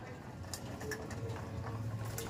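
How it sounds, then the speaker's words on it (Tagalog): Racing pigeons back from a race coo softly while being fed in a loft, with repeated low murmuring coos and light pattering of feed and feet, close and fairly quiet. "Nagpapakain na tayo ng mga ibon natin."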